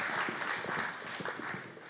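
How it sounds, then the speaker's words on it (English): Audience applause at a 2017 event, a steady soft wash of many hands clapping, fairly distant and without talk. "Let's give him a round of applause, please."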